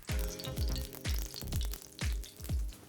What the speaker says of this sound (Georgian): დავიწყეთ შეწვა. გრილზე ვწვავთ, გახურებული მაქვს გრილი.